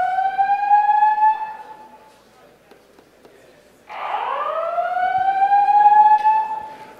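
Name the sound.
klaxon alarm horn sounding during a presentation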